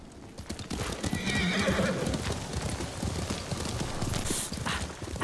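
Horse hooves clip-clop steadily in Ghost of Tsushima's Iki Island expansion while a horse neighs clearly partway through, the trotting continuing fairly close and loud alone.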